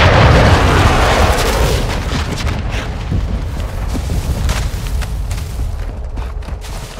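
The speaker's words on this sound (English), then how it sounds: "Hostiles launched a cruise missile." Loud rumbling explosions from cruise missile strikes in the video game Call of Duty: Modern Warfare II, a heavy booming burst at the start followed by continuing crackling blasts and distant gunfire-like impacts.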